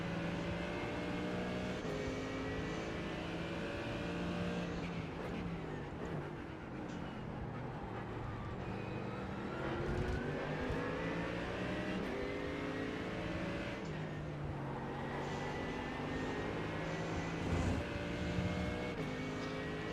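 GT3 race cars, including a big, loud Ford Mustang, circulate in an endurance race at The Bend in a racing video game, with a steady, dense engine roar and revving that runs through the whole stretch without talk.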